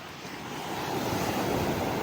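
Ocean surf rushes in at Karwar, the wash of a wave swelling and growing louder over two seconds, with wind noise across the microphone.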